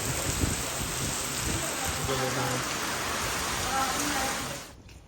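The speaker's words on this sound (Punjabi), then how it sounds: "ਸਹਿਬਾ ਵੀ ਨਹਾ ਲਈ ਸਾਡੀ ਮੀਂਹ ਚ" Steady heavy rain patters on surfaces, with faint voices murmuring underneath, before the downpour fades out at the end.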